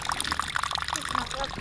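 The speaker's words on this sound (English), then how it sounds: "Water noise." Water trickles and splashes steadily through a rerouted outdoor water feature on a homestead, a continuous close babble with a voice faintly underneath.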